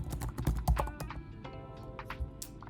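Keys clatter on a computer keyboard in quick irregular bursts of close, crisp taps, fairly quiet and with no voices.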